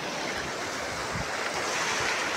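Ocean waves wash steadily on the open sea, a soft, continuous rushing surf with faint wind noise and no voices.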